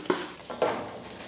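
Asafoetida stirred into hot oil in a pan while making pickle: two quick scraping clinks of a spoon against the vessel with a faint sizzle, quiet and close.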